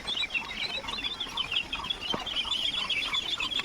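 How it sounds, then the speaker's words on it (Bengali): Ducks eat feed in a dense, continuous patch of quick clucking and chattering calls that stays loud and near for the whole span, with no talk over it. "দেখেন খাবারটুকু কত সুন্দরভাবে খাচ্ছে"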